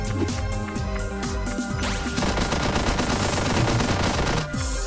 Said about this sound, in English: you can move the turret up to start shooting the enemy up there